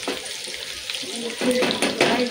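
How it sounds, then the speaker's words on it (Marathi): Garlic frying in a pan while fried rice with mixed vegetables is made: a soft, crackling sizzle with a few clinks and stirring scrapes, rising a little toward the end, and a voice heard faintly in the background. "आणि आता इथं लसूण तळून घ्यायचं मस्तपैकी."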